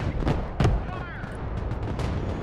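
Artillery fire in the war game Broken Arrow: a couple of heavy booming impacts, the strongest just after the start, over a rumbling battlefield bed with gunfire, loud and close.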